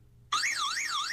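Virtual Zhiguli car in an educational app sets off its car alarm: a loud warbling electronic siren starts abruptly and sweeps up and down steadily, alone with no talk.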